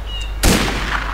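Gunshot in the PS2 video game Mafia: The City of Lost Heaven: one sudden, loud crack that cuts through a quiet background and decays into a brief noisy tail.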